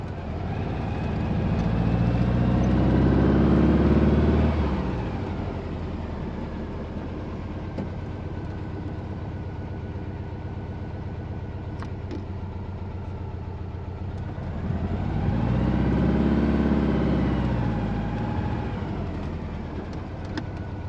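A 1955 Volkswagen Beetle on a road test gives a steady mid-pitched engine drone from inside the car. The engine swells louder twice as it accelerates through the gears, then settles back to an even cruising hum, with no talk.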